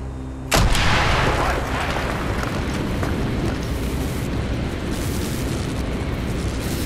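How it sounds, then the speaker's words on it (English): A huge explosion blows a hole in a wall in Call of Duty: Black Ops, a sudden loud blast followed by a long roaring, rumbling tail of debris and fire. "blow a hole in that fucking wall"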